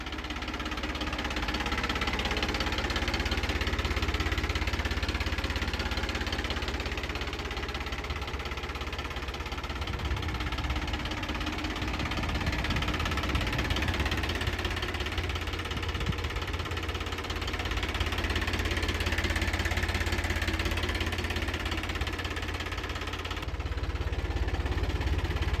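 A 2023 Solis 4515 E series tractor engine idles steadily throughout, a continuous low rumbling knock at moderate distance with no speech over it.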